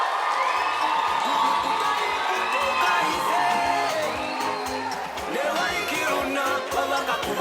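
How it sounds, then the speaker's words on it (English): A closing ceremony audience at a welding skills competition cheers loudly for a champion, with whoops and children's shouts in a dense, steady crowd roar lasting throughout. "Please put your hands together for Simone Swartboy."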